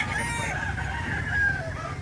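Roosters crow and hens cluck amid a busy, noisy background of many birds at a poultry market in Lipa, Batangas, fairly close and continuous throughout.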